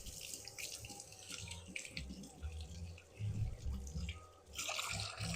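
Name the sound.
tap water running while washing hands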